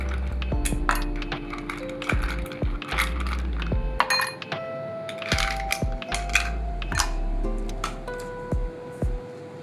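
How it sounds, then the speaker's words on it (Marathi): Ice cubes clatter and clink into a vessel of raw mango drink in repeated bright bursts, with ringing tones between the drops, loud and close. "बर्फाचे तुकडे घालू."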